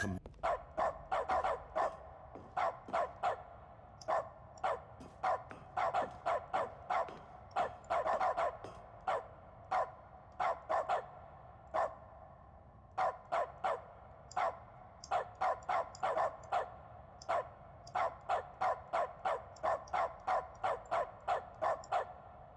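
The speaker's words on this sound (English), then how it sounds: "Barking." A dog in the video game The Stanley Parable barks over and over in quick bursts and short runs, a clear, fairly close, persistent yapping with no voices over it.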